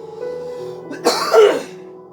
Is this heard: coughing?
yes